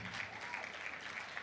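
Faint, distant audience applause at a tech event in Port Harcourt, a thin continuous patter of clapping heard from afar.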